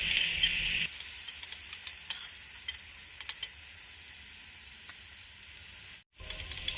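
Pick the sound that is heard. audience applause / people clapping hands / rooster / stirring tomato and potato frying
stirring tomato and potato frying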